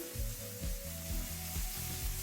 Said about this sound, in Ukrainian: Риба там на фоні шкварчить, якщо ви чуєте.